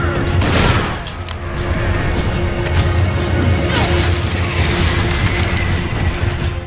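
Dynamite explosions in Resident Evil 5 gameplay rumble loudly and continuously, with booming blasts and crashing debris layered over dense game noise throughout.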